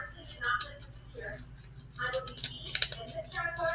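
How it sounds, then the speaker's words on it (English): Scissors snip a small paper cupcake liner with sticky batter inside, a few quick light cuts heard close up while a person talks over them. "I'm going to cut the cupcake liner"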